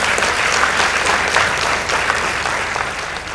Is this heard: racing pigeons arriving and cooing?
no